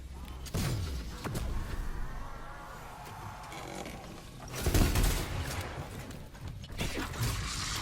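A Wonder Weapon fires in Cold War Zombies as a loud, close burst, with a sharp crack followed by a sweeping whoosh and then a second blast, over steady game ambience.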